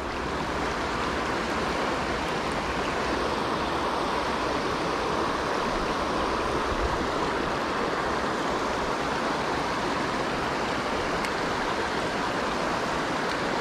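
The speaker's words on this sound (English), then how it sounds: "Got little rapids right here" Rushing river rapids with a small waterfall, a steady broadband churn of water that holds close and loud throughout with no letup.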